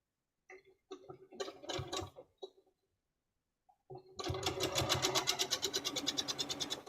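A sewing machine stitches fabric crumbs, starting with a few short, halting bursts and then running in a steady, close, rapid rhythm.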